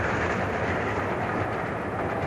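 A train locomotive rumbles steadily along a historic Victorian railway, a continuous low, dense roar with no pauses or voices.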